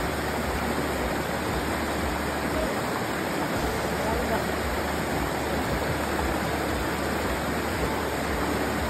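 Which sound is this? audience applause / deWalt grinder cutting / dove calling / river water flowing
river water flowing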